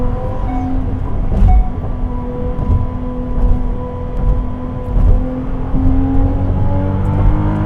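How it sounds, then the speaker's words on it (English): A hybrid Ferrari 296 GTB hums and whines steadily, then gathers pitch as the engine comes in under acceleration, with rising tonal harmonics over a loud, close rumble. "I'm going to give it some beans and you can hear the engine come in"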